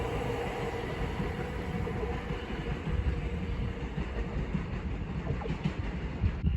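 A Class 720 train passing through Bethnal Green station rumbles steadily at moderate distance, with continuous wheel and rail noise throughout and no voices.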